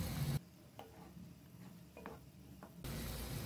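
Pumpkin payesh being stirred in a pot over the stove, a few soft scraping strokes of a spoon against the pan at close range, fairly quiet and without talk.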